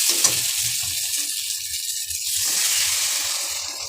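Water is poured into curry frying in a pan, a soft close sizzle and gushing hiss that swells toward the end, with faint stirring underneath.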